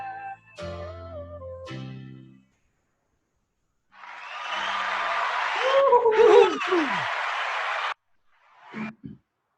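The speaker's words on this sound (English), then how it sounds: "Thanks for the applause. Yeah, there's applause." Applause rings out at the opening of the Munch with Jen & Ben talk show. A few short tones come first, then a broad wash of clapping lasts about four seconds and stops abruptly, leaving a brief faint trailing sound.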